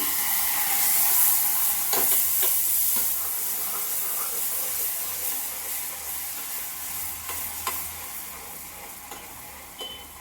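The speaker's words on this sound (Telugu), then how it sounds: "ఇప్పుడు ఇదే టైంలో కొంచెం మిల్క్ వేస్తున్నాను." Milk poured into hot butterscotch caramel in a pan sets off a loud, steady sizzle and hiss, with a few clicks from stirring as the bubbling slowly settles, and no talking.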